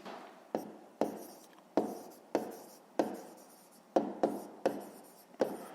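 A pen writes in a notebook during a fifth-grade maths exercise: a series of close, crisp scratchy strokes, each starting sharply and trailing off, repeating at a steady pace with no voices.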